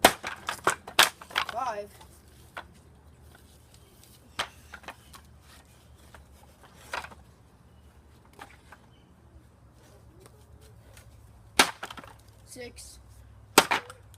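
A $5 hatchet and a Fiskars X11 split wood in sharp, separate chops, loud and near, spaced a few seconds apart, while a man counts the strikes aloud between them.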